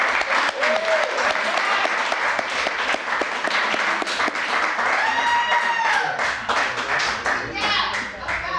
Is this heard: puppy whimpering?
no